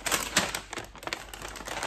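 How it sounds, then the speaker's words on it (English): Bags holding knitting wool rustle and crinkle in quick, uneven bursts of crisp, clattery crackling close to the microphone, with no voices over the sound. "again, excuse the rustling"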